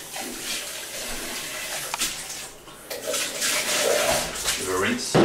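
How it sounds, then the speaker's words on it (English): Tap water running while a glass is rinsed at a kitchen sink during breakfast preparation, a splashing hiss under a person talking throughout. "Give it a rinse."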